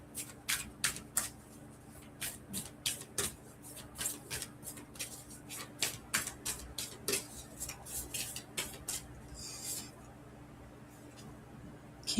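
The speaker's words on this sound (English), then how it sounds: "Work on my shuffling." Close, crisp rapid riffles of oracle cards being shuffled, repeated in quick bursts, ending with a softer bridge-like flutter.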